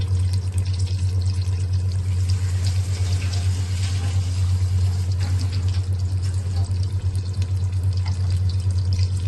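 Water poured from a cup into a cooking pot while making a keema aloo curry, a steady continuous splashing stream that runs loud and close for the whole stretch with no voices.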